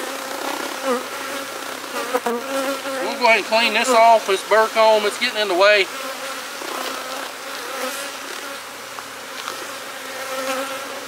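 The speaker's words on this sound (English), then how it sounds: "Look at this bee power right here. A lot of bees." Dense, steady buzzing of many honey bees close by in an open hive, with someone talking over the swarm throughout.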